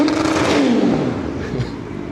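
A car engine revs up with a rising whine, then eases back and settles into a lower, steady hum over about two seconds, fairly loud and close.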